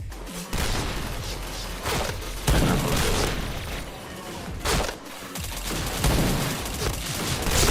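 Rapid gunfire from the Point Blank shooter game, with dense bursts of shots and booms running almost continuously at moderate loudness with brief dips between volleys.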